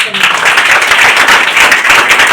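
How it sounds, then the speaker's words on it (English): A class audience in an English conversation lesson claps together, giving a loud, dense burst of applause that lasts a couple of seconds and carries no talk. "You clap."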